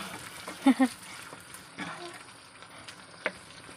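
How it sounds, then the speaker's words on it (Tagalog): Onions fry in a large pan for chicken biryani while being stirred, giving a soft continuous sizzle with a few scraping stirs and clinks, close by, and a voice speaking at times. "dapat daw maging brown yung sibuyas. So, imikos-mikos natin to hanggang mag-brown."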